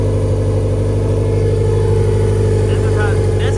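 Built turbocharged Honda Civic GSR-swapped engine on 93 pump gas, running without its power steering, settles into a loud, steady close-up idle with a deep rhythmic throb and faint whine, a voice talking over it.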